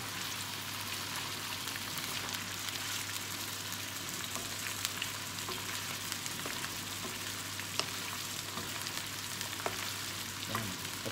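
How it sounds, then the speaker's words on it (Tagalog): Chicken pieces and garlic sauté in a hot pan, giving a steady, even sizzle with a few small pops and scrapes, close and continuous, and no voices. "Pati yung garlic, nagigisa na rin."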